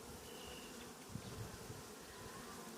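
Honey bees humming steadily at a hive during layer adding, a faint continuous buzz that stays even in level throughout, with no talking.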